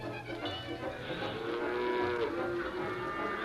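Several cattle moo with long, drawn-out lowing calls overlapping one another, fairly close, over a steady background murmur of a herd.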